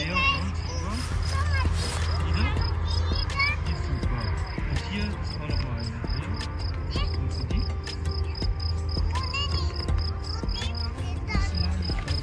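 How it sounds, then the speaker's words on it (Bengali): Crickets chirp in a strawberry field in Germany, a steady, shrill pulsing drone with repeated trills throughout, while people talk nearby. "ঝিঝি পোকার ডাক শুনতে পাচ্ছেন?"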